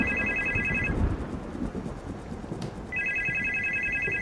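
A telephone rings in two bursts of electronic trilling separated by a pause, fairly soft over background room noise.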